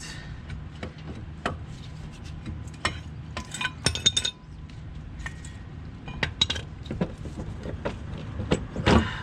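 Metal brake parts clink and scrape as the front rotor is slid off the hub of a 1992-2002 Cadillac Eldorado during a brake job, with scattered close metallic knocks and short sliding scrapes.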